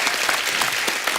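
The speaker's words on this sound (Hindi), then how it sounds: "तालियां होनी चाहिए।" A studio audience claps on a TV comedy show, a brief burst of dense, continuous applause heard close and loud with no talking over it.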